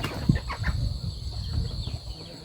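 Farm chickens cluck close by, a few short clucks and a brief flutter of wings over a quiet outdoor background.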